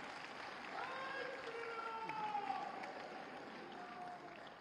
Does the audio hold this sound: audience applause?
yes